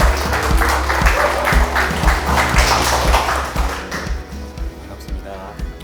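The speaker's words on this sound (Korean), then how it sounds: "큰 박수로 맞이해 주세요." Audience at a corporate product presentation claps loudly to welcome two executives to the stage, a dense, close burst of applause that thins and fades toward the end.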